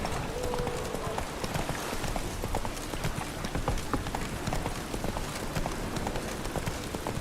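Roach the horse's hooves clip-clop steadily in The Witcher 3, a dense, continuous run of hoofbeats at a brisk pace that sits over constant game ambience throughout.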